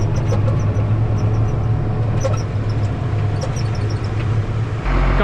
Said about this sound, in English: I'm just gonna come in here with the payloader, clean up this whole corner here in this corral, push it all up onto that pile right there